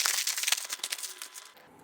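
Plastic Indomie instant noodle packet being torn open, a dense run of loud, close crinkling and crackling that fades out toward the end.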